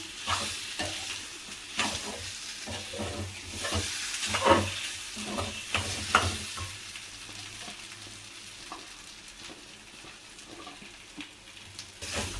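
Aloo paratha potato filling frying in a pan and being stirred, with soft sizzling and scraping strokes of a spoon, louder in the first half and quieter later, no talking.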